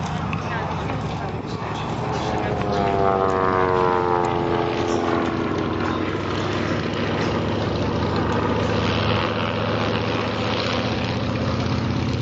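A Fieseler propeller trainer flies over at a 1940s Luftwaffe classics airshow, its engine drone swelling with a sweeping pitch shift as it passes overhead, while a commentator talks over the PA throughout.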